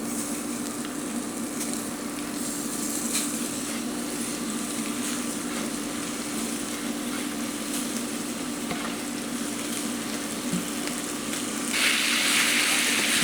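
Olive oil and about two tablespoons of butter sizzle loudly in a pan for beef tips, a dense continuous crackle with scattered pops that swells near the end.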